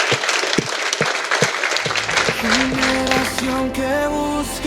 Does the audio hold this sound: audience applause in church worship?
yes